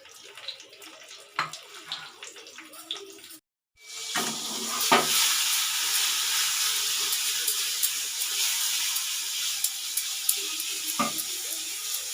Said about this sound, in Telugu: షాడో ఫ్రై చేస్తే చాలా క్రిస్పీగా పైన లేయర్ క్రిస్పీగా వస్తుంది